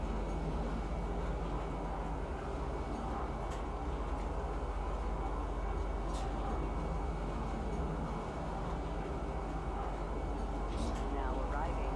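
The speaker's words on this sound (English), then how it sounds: "Now arriving, Central Station." A train pulling into Central Station in Star Citizen, a steady low rumbling rail roar with faint higher whines and clanks, continuous and moderately loud throughout.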